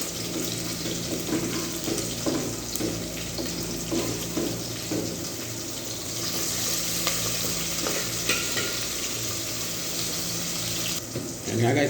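Chopped onions frying in a pan with sardines, with a steady loud sizzle and occasional stirring scrapes throughout, continuous and close.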